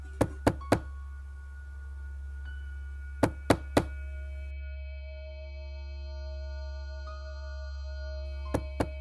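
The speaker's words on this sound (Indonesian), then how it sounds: "Sesampai di depan pintu, perlahan saya ketok." Knuckles knocking on a closed house door: several groups of two to three crisp knocks spread across the span, close and distinct, separated by a low steady hum and faint tones.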